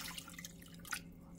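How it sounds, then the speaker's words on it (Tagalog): Water is poured from a tap into a cooking pot holding pork belly to cover the meat, heard as soft, close dripping and trickling splashes, fairly quiet, with no talk. "lalagyan din natin ng tubig na lampas sa karne"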